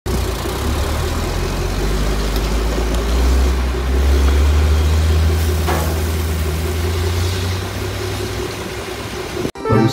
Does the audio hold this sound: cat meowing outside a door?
no